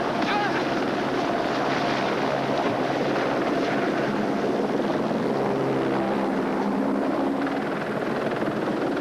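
A helicopter flying during an escape scene, its rotor and engine roar steady, loud and close throughout, with wind noise on top.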